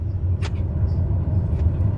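A plane's engine roars steadily at full takeoff power in Microsoft Flight Simulator, a dense, constant low rumble filling the whole moment with no talk over it.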